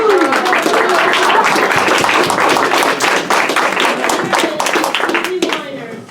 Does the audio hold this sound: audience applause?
yes